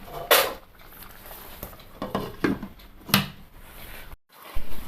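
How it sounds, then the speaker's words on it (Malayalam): Clattering pan and lid knocks in a home kitchen while omelette curry simmers on low heat: several sharp metallic clinks and thuds, close by, at irregular intervals with quieter handling between. "അതിന് വേണ്ടിയിട്ട് ഒരു 3-4 മിനിറ്റ് ഒന്ന് മൂടി വെക്കാം."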